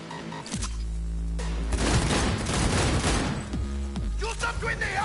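Gunfire rattles in a dense, loud burst in the game Cyberpunk 2077, with a low booming undertone and a few short pauses, while the character voices shout in the scene.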